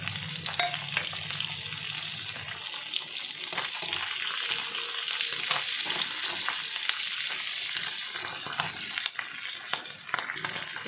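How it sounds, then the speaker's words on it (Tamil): Dried fish frying in a pan with green chili and curry leaves for a dried-fish curry, giving a steady, bright, hissing sizzle with occasional stirring scrapes, close and continuous, with no voices. "இப்போ அந்த கருவாடு அந்த பச்சை மிளகா அந்த கருவேப்பிலையோடு ஃப்ரை ஆகும்போது"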